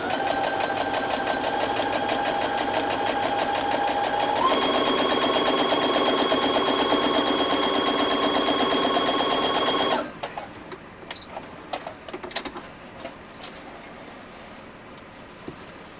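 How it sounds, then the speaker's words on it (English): A sewing machine runs steadily for about ten seconds, stitching a straight seam with a stitch guide foot holding the fabric a fixed distance from the needle, its hum shifting pitch partway through before stopping, followed by light handling noises. "my needle doesn't move, so it's going to stitch the same distance all the way down"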